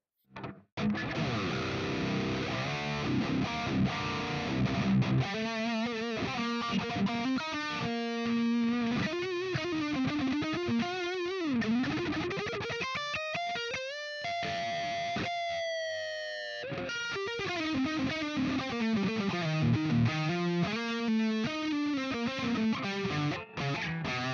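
Electric guitar with gain, played through bridge and neck pickups, plays a continuous bluesy lead, sliding and bending notes, with a quick run of high, fast notes midway.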